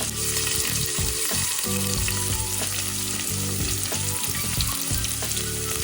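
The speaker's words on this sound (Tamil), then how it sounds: "வெங்காயம் வதங்கி கொண்டிருக்கு" Onion and green chilli frying in a pan for a fish cutlet mixture, a loud, steady sizzle with occasional stirring scrapes throughout, no talking.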